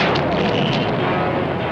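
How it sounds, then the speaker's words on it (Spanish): Cartoon ray guns blasting from a spaceship in a She-Ra animated episode, a dense, loud, continuous rumbling barrage of booming shots with no gaps, filling the whole moment. "¡Disparen los rayos!"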